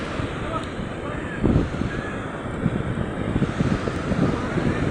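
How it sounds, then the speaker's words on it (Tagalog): Big waves surge and crash against a shore with a rough, broadband wash and strong wind buffeting the microphone; people talk nearby over the surf. "Lalaki na alon."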